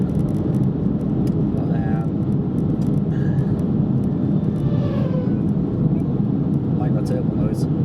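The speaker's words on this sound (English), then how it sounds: "Turbo noise." Car cruising at speed on the A18 past Humberside Airport, a steady broadband engine and road roar with a faint turbo whistle rising over it, continuous and close inside the cabin.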